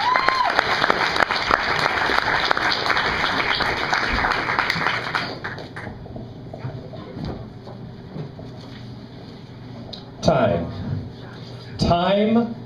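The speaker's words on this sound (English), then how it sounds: "So let's give him a big round of applause, you guys." An audience gives a speaker a strong round of clapping that runs loud for several seconds, then tapers into a quieter room with faint movement and a few later thuds.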